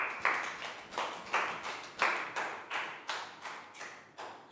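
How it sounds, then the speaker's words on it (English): A small group in a primary classroom claps for a student in a slow, steady rhythm, each clap sharp and near, repeating about eight times. "Big round of applause for Net."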